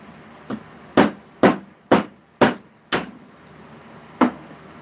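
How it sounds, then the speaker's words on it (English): A metal hammer strikes an 1851 US large cent copper penny to shape a coin ring, six loud, sharp ringing blows at a steady pace, close and alone. "this is where I hammer the coin out"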